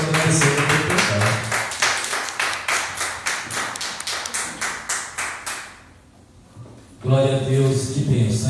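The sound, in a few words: clapping in church to praise the Lord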